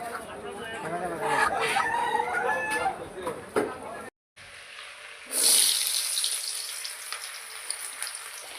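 Native country chickens at a market poultry shop cluck and crow amid busy shop noise, with a brief dropout midway followed by a louder, brighter burst of bird calls.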